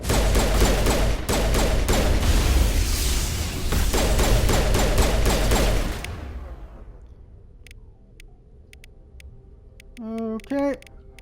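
Repeated pistol gunfire in Mass Effect, with sharp shots fired in quick bursts over loud combat noise for about six seconds. A quieter stretch with faint game sounds follows.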